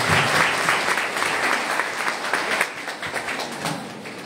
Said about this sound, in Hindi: एक बार जोरदार तालियों से उनका स्वागत किया जाए